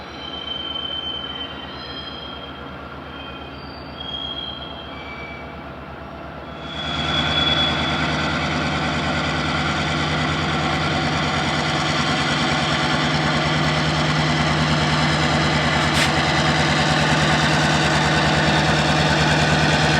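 A CSX freight train hauling loaded bottle cars bound for a Riverdale steel mill rolls past close by, a steady loud rumble of wheels with a sustained metallic squeal and engine drone that swells after the first few seconds and holds to the end.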